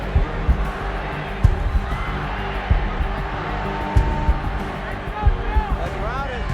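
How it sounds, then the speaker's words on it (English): Boxing crowd chanting Ali, a large arena audience whose rhythmic chant and cheering swell under a commentator's voice, with crowd noise running steadily throughout. "The crowd is chanting Ali"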